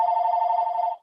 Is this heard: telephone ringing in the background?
yes